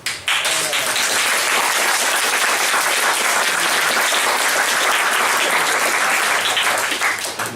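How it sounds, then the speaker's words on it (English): A comedy club audience gives a sustained burst of practice applause, loud and dense for about seven seconds before tapering off. "You're going to be our epicenter of applause this time, Ross."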